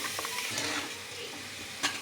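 Pointed gourd peel paste frying with chopped onions in a wok, a dense continuous sizzle with scraping stirs and a brief louder clatter near the end.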